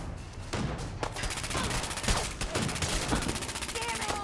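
Rapid automatic gunfire from a drum-magazine gun in Fallout 4, sustained dense bursts of shots with heavy thumps, loud and close throughout.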